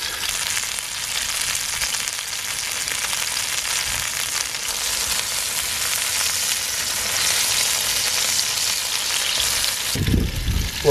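Wallaby back steak, seasoned with salt and pepper, sizzles and spits steadily in a hot pan, a dense bright crackle throughout, ending in a few louder clatters and bumps.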